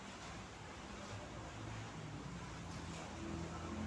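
Strong wind roars in a steady, broad rush outdoors, continuous and fairly faint, with a low rumble underneath and no one speaking.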